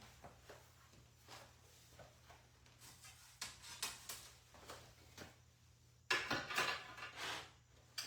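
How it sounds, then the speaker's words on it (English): Cumin seeds splutter in hot oil in a pan, giving faint scattered pops and crackles that grow into a louder burst of spattering near the end, with light clinks of utensils and no talk. "So my cumin seeds have begun to splutter."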